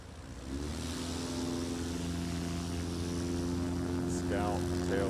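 A Scout light aircraft's propeller engine roars steadily during a takeoff run at a STOL practice event at an executive airport, loud and sustained, with a commentator talking over it.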